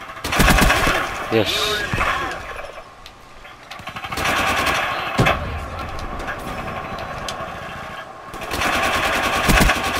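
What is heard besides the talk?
RPK light machine gun firing in video game Call of Duty Black Ops 3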